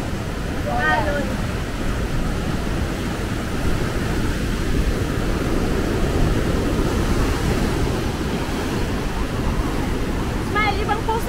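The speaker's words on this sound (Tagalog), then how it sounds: "Alon." Sea waves washing against the shore at Paleokastritsa on Corfu, a continuous loud rumble of surf mixed with wind buffeting the microphone, and a couple of brief bird-like chirps near the start and end.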